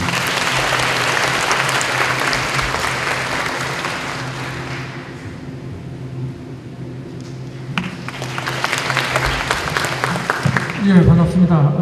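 Audience at a university humanities and education program event applauds warmly to welcome a vice president, a dense sustained clapping that fades midway then swells again, with voices and some background tones near the end.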